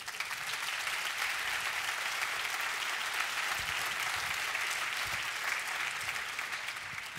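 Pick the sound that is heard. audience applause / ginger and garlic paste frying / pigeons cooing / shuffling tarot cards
audience applause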